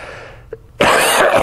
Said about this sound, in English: gets embarrassing coughing this much